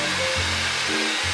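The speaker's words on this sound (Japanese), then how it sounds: "ドライヤーはもう一人暮らしの時からずっと使っているパナソニックの" A Panasonic hair dryer blows steadily at close range, its motor whine dipping and rising as the airflow shifts, with no voices.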